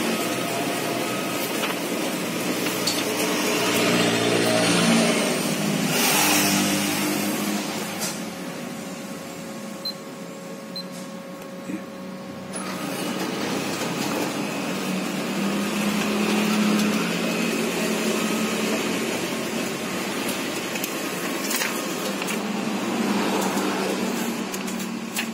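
A Canon iR 5000 photocopier printing a book runs with a continuous mechanical whir and hum, with rhythmic paper-feed swishes and a brief dip midway, loud and close with no talking.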